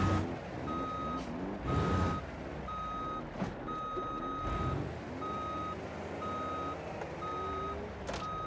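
Mercedes-Benz Actros truck in the BeamNG driving game reversing, its backup alarm giving steady evenly spaced beeps over a low engine rumble, with a few brief air bursts.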